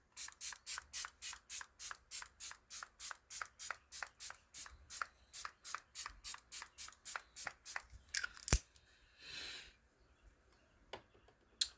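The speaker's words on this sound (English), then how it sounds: "spray your face with some setting spray" A quick, steady series of short makeup setting spray pumps misted onto a face, around thirty in a row, followed by a longer hiss and a few faint taps; no voices.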